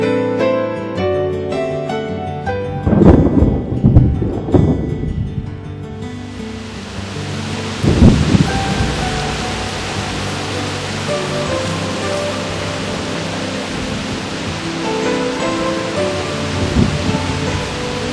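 Heavy spring monsoon rain in Taiwan's high mountains, a dense, continuous hiss of downpour with several deep rolling thunder rumbles swelling and fading, and soft tonal music underneath.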